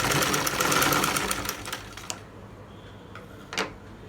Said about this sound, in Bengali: তো আমি এই পর্যন্ত একটু সেলাই করে নিয়ে আসি।